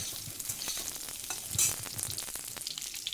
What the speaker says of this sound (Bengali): তো একটু হালকা করে আলুটাকে ভেজে নিলাম।